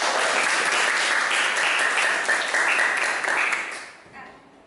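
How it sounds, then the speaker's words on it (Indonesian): A classroom of children claps together, a bright, dense burst of many small hands that holds steady for several seconds and then tapers off, with a faint hum of voices under the clapping. "Kalau kau suka hati tepuk tangan. Tepuk tangan dulu."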